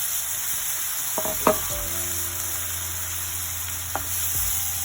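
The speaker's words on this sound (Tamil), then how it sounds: "வெங்காயம் பதமாக பொறிஞ்சு ஒன்று வந்துட்டுது அதுக்குள்ள இந்த கழுவி எடுத்து வச்சிருக்கிற பாவக்காயை சேர்ப்போம்" Bitter gourd is tipped into a pan of fried onions, bringing a few clattering knocks and then a steady sizzle and crackle that runs on alone.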